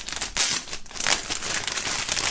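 Plastic film wrapped around merchandise crinkled close up while unpacking a box, a continuous loud rustling and crackling with two stronger bursts, alone without talk.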